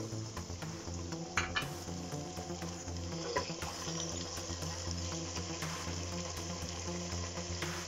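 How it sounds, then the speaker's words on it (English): Potato cubes and softened green peas sauté in a pan for vegetable pulao, a quiet steady sizzle broken by light scrapes and taps of a spoon stirring against the pan. "When green peas are soft, add cubes of potato and saute for few minutes"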